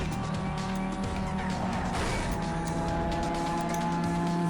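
A car power slide in the Need for Speed Underground 2 racing game: a loud, steady engine drone with a drawn-out tire squeal and skid running throughout, no talk.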